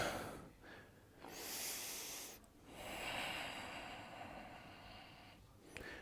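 Slow, soft breathing during a seated yoga twist, several quiet airy inhales and exhales drawn out over a few seconds with breathy hiss, faint and close.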